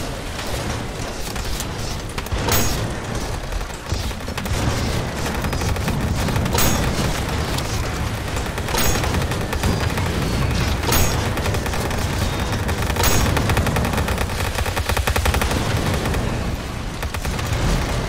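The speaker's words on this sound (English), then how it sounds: "Dude, there's machine gun and everything over there." Total Tank Simulator battle in a Poland campaign against the German Blitzkrieg: a dense, continuous din of machine gun fire and rumbling blasts, with sharper bursts punching through every couple of seconds.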